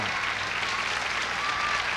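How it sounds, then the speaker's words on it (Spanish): A television studio audience in Chile applauds a guest's arrival on a 1990 variety show, a steady, moderately loud round of clapping with no break. "Un aplauso grande para Yuya."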